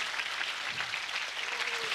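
A church congregation gives a sermon's preacher loud, sustained applause, a dense wash of clapping lasting about two seconds.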